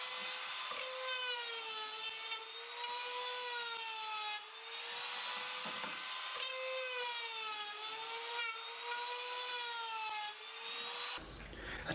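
Spotted gum or red oak being cut with a steady, whining saw in a woodworking shop, a loud sustained tone that rises and dips in slow waves for several seconds before cutting off abruptly at the end.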